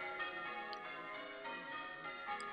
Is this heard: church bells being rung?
yes